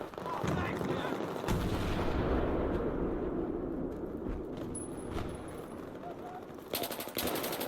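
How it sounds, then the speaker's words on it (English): Gunfire in the video game Door Stuck: a dense run of sharp shots and bursts fills the whole stretch, loud and close, with a few heavier cracks near the end. "that gunshot is so clear that it's front"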